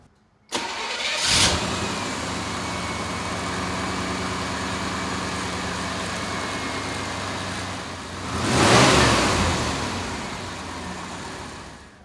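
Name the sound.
car with TPI engine starting and running after fuel injector replacement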